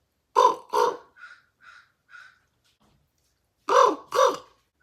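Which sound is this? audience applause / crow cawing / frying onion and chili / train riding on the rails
crow cawing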